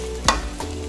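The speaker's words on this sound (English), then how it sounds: "I'm going to add the noodles now." Noodles for pad thai with chicken and shrimp hit an oiled pan, giving a brief close stirring scrape and a short sizzle burst under a steady frying hiss, with no voices.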